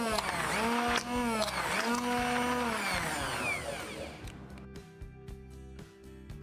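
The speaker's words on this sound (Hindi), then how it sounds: "अब हैंड ब्लेंडर की सहायता से हम दही को अच्छे से ब्लेंड कर लेंगे" A steady motorized whir of a hand blender, loud and continuous, its pitch dipping and rising as it blends thick yogurt until smooth.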